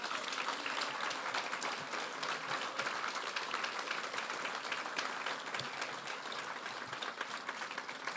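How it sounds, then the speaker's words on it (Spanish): Steady, dense applause from a church congregation fills a large hall, loud and continuous throughout with no talk over it. "Dar un aplauso al Señor fuerte."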